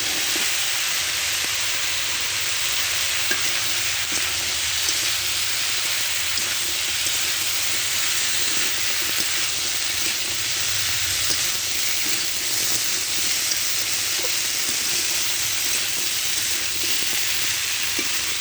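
Ridge gourd and green chilies fry in a pan with a continuous, even hiss of sizzling oil and faint occasional stirring, close by and steady throughout, without talk.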